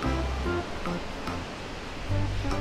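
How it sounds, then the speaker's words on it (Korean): Wind blows through the mountains with a steady, full rushing roar that swells slightly in gusts and has no other sounds over it. "바람소리, 윙윙"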